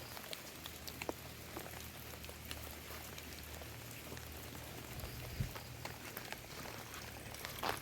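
Rain falling steadily outdoors, a soft continuous patter with scattered nearby drops, faint and even throughout with a low hum underneath.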